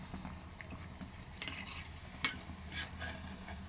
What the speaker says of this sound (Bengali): দেখো একদম এরকম করে লাল লাল করে প্রত্যেকটা ভেজে দিতে হবে